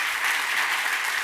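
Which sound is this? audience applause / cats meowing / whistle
audience applause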